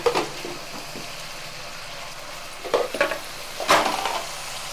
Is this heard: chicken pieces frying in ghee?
yes